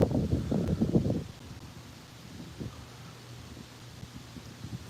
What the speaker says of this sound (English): It is windy and it is cold.